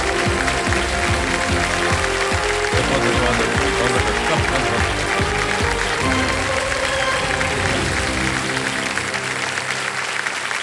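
A studio audience on the Kaun Banega Crorepati season 17 game show bursts into loud, sustained applause that stays dense and steady before tapering near the end. A voice briefly speaks over it.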